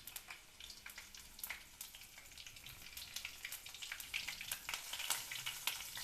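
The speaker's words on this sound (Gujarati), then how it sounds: "આપણે લીમડાના પાન લીધા છે એ એડ કરી દઈશું, અને આ લીલા મરચાં કાપેલા છે એ એડ કરી દઈશું" Curry leaves and chopped green chillies crackle and spit faintly in a hot mustard seed and cumin tempering for cabbage-potato shaak, a dense, quiet sizzle with sharp pops scattered throughout.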